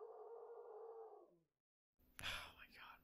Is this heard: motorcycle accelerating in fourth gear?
no